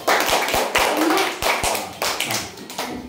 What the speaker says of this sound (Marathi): तुमच्या सगळ्यांसाठी एकदा जोरदार टाळ्या वाजवा